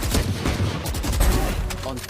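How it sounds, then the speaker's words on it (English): Rapid gunshots in Valorant during a Cloud9 vs Gen.G esports grand final, a quick cluster of punchy cracks over a short moment, loud, mixed with a caster's excited talk. "Another headshot through the structure"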